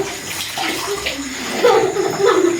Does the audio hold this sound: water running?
yes